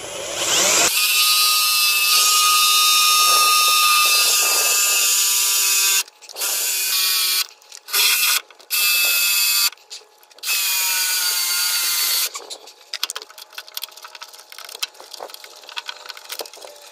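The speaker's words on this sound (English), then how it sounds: "so I have this DeWalt little right angle drill adapter" DeWalt right angle drill adapter driving screws into a dump trailer while installing a Bulldog 6,000 lb winch, loud continuous high whine broken into several bursts with short gaps, followed by quieter intermittent clicks.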